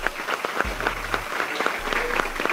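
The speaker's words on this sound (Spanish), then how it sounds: "un fuerte aplauso para todos nosotros, muchachos" Applause from a group of dancers and audience at a sports-week dance foundation event, brisk scattered clapping at moderate distance with a low hum underneath.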